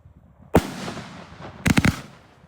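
An Srpyro 48mm firework cake launcher (Kick Boxer or Power King) firing outdoors: one sharp burst, then a quick cluster of three or four rapid bangs about a second later, each trailing into a fading crackle.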